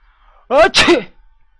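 A single sharp sneeze bursts out close to the mic, a quick intake followed by an explosive release, with near silence before and after.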